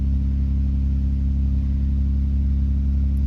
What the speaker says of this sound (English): I want to show you the RPM is not jumping, the engine working smooth.